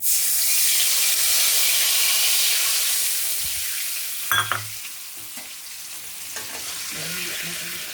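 Spices dropped into hot oil in a pan over lowered gas, a loud, steady sizzle that fades a little, with a few brief clinks of stirring near the end and no talk.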